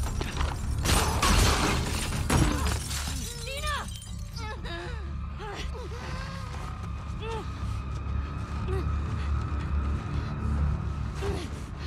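Glass ceiling shattering in The Last of Us Part II, with a loud crash of breaking glass early on, then scattered tinkling debris and mechanical rattles over a steady rumble, with a voice gasping.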